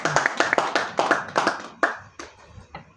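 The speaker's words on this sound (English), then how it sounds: "can we give ourselves a round of applause for coming very early?" An early-arriving audience at the Worldstage Economic Summit 2025 gives a round of applause: crisp, fairly close hand claps in a quick, uneven rhythm that thin out into a few scattered last claps.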